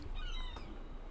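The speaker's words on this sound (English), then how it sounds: "I like the cat." A cat meows in the video game Stardew Valley, a few short tonal mews rising over a dense bed of game music and ambience, fairly faint and half buried in the mix.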